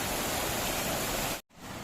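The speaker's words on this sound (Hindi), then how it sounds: "देखिए कितना सुंदर सा झरना है, कितना सुंदर पानी का फ्लो है, पानी के साउंड को फील कीजिए" Steady broadband rush of a waterfall on the Rudranath trek, loud and continuous, then cut off abruptly near the end before a quieter stretch of flowing water resumes.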